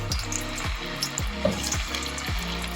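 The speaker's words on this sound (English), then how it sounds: "So you got that good sizzle." Potato fries sizzle and crackle steadily in hot oil as they are piled into the pan for homemade fries, with louder splashes and bubbling bursts as each batch drops in; no one speaks.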